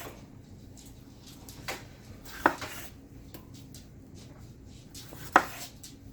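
Strawberries quartered with a knife on a board, a few sharp separate knife taps over a quiet background, two of them distinctly louder.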